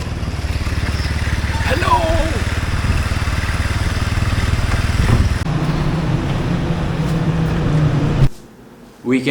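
A rented scooter engine drones steadily on a ride through the Dominican Republic, with a voice speaking over the hum before it cuts out near the end.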